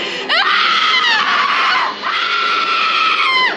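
A horror-film actress screams in terror, a loud, sustained high-pitched shriek rising and falling, briefly breaking near the middle before a second drawn-out scream, with no other voices.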